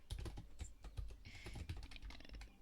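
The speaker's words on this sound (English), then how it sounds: "This dang keyboard." Computer keyboard typing, a run of quick, irregular clicks and key taps close by and fairly quiet, with a brief, brighter rattle of keys partway through.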